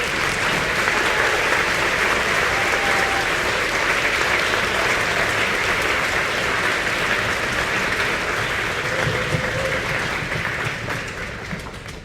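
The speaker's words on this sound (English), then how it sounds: "You guys deserve a round of applause." Sustained, dense applause from a large audience at a community gathering, thanking the crew who set up chairs; steady and close for twelve seconds, easing slightly at the end.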